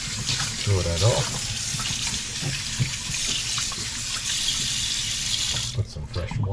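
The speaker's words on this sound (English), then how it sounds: "Put some fresh water in there." Fresh tap water runs steadily into a container holding a pork shoulder, a continuous splashing rush that cuts off near the end, with a voice heard briefly over it.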